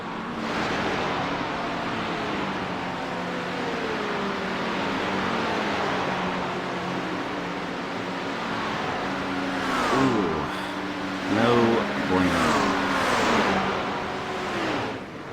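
GT3 race cars, McLaren and Porsche, racing at Watkins Glen in a sim racing game, with a steady engine drone and rising, falling revs as cars pass close by near the end.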